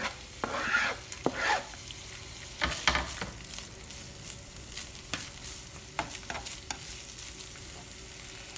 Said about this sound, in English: We're going to go ahead and saute our vegetables first.